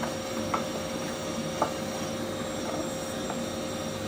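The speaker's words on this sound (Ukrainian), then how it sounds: "Виставляю там пилосос, щоб воно все нас витягувало" A steady, droning whoosh of a vacuum cleaner running continuously inside a 2014 Toyota Camry cabin, with a couple of faint clicks.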